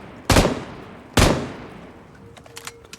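Two sharp, loud gunshots ring out roughly a second apart in BGMI, the battle royale mobile game, each with a short decaying tail, followed by faint clicks and small game effects.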